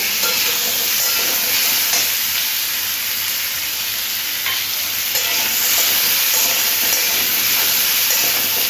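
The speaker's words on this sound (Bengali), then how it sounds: "তার সাথে সাথে দিয়ে দিচ্ছি পেঁয়াজের টুকরোগুলো" Onion pieces go in with pumpkin already frying in oil, and a continuous close sizzle and hiss carries on with intermittent stirring scrapes and light clatter.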